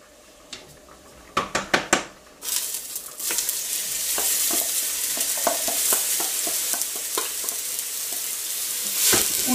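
Chopped onions for chili con carne: a few sharp clinks of utensils and cookware come first, then a loud, continuous sizzle takes over as the onions sauté, broken by occasional stirring clatter.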